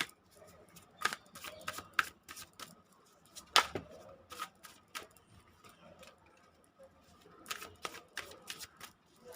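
Tarot cards shuffled by hand, a steady patter of soft flicks and crisp snaps with irregular bursts and pauses, close and fairly quiet, with no speech.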